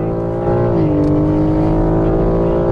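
A BMW M3 Competition G80 driven hard on a circuit, its engine note loud and close as it holds high revs, with pitch dipping briefly then climbing steadily under sustained acceleration.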